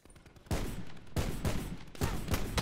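Video game gunfire crackles in rapid, rattling bursts, with several sharp volleys over a couple of seconds. It is fairly close and clear, with no talking.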